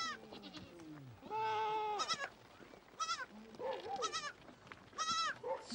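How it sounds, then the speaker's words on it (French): A herd of goats and sheep bleats in the Moroccan Atlas, several animals calling in short wavering cries at varying distances, one after another, with quiet spells between calls. "100 chèvres et 80 moutons, c'est toute sa richesse."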